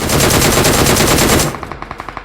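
Sustained automatic gunfire in the BGMI battle royale game forms a dense, loud stream of rapid shots, then thins into a few distinct, quieter spaced single shots at the end, with no voices.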